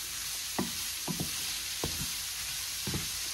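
Green onions and vegetables frying in a pan for keto chicken fried cauliflower rice, a soft steady sizzle broken by several quick scraping stirs of a utensil, close and quiet with no talk.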